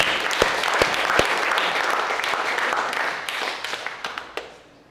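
Steady applause from an office team meeting for a co-MVP award, a dense wash of many hands with a few sharp individual claps standing out before it fades away.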